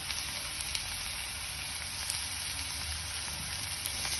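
Turmeric powder and asafoetida sizzle in hot oil for a drumstick curry, a steady close hiss with faint crackles throughout and no talking.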